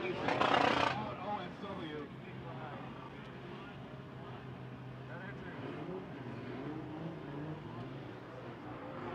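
A 1,000-wheel-horsepower turbocharged LS V8 C6 Corvette drift car roars from a distance during competition qualifying, with a sharp burst at the start and then a steady droning growl beneath crowd noise.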